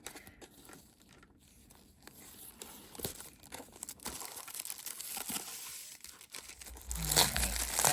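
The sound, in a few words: unwrapping a Trollbeads package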